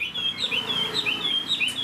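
A large Chinese hwamei songbird calls with a quick series of clear, rising and falling whistled chirps, close and steady, with no talking.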